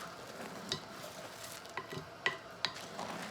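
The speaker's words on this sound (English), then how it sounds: "I'm mixing up my dry ingredients" Dry baking ingredients with cinnamon mixed in a large batch, giving soft gritty scraping and stirring with a few light clicks against the bowl, quiet and close.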